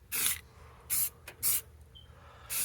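An old spray paint can coats a computer case in four short, separate hissing bursts with quiet gaps between them, close by.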